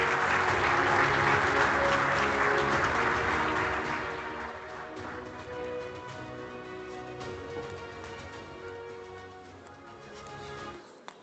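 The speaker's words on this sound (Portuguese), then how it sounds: "Um aplauso, por favor." Audience applause at a safety conference session, loud and full at first, then thinning out and tapering over about ten seconds with a background hum underneath.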